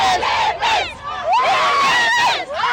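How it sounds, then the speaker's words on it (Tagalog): Filipino fans roar and scream in a packed stadium at a SEA Games basketball gold medal game, a loud, close crowd with rising and falling waves of shouting. "Dumagungdong hanggang sa labas ng stadium ang sigawan ng mga Pinoy na saksi sa pagdepensa ng Gilas Pilipinas sa gintong medalya sa 33rd SEA Games."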